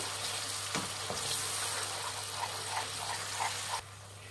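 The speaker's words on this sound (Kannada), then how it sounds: "ಮಸಾಲೆ ಒಂದು ಸ್ವಲ್ಪ ಹಸಿ ವಾಸನೆ ಹೋಗೋವರೆಗೂ ಫ್ರೈ ಮಾಡಬೇಕಾಗುತ್ತೆ ಎಣ್ಣೆಯಲ್ಲಿ" Ground masala paste frying in oil for egg chops, a steady close sizzle and hiss with a few soft stirring clicks, cutting to quieter background near the end.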